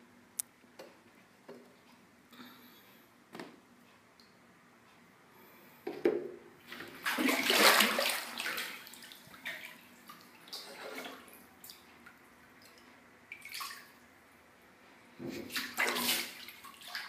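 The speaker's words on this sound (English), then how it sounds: "I'm going to throw water." Water is thrown into a bathtub, giving a splashing burst in the middle and another near the end, moderately loud against a quiet, faintly ticking room.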